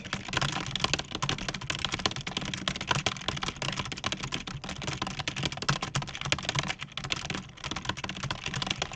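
Rapid, continuous typing on a computer keyboard, dense close clicks and clacks at a steady fast pace with no pauses and no voices.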